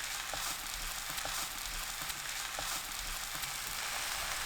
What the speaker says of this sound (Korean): 팬에 묵은지 넣고 중불로 1분 굽습니다.